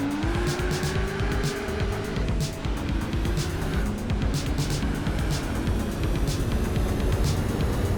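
A Nissan Skyline ER34 in Gran Turismo 4 brakes hard with a long, wavering tire squeal over the steady engine drone, loud and continuous throughout.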